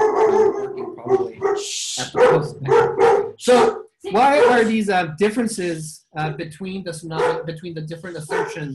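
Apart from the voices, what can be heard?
dog barking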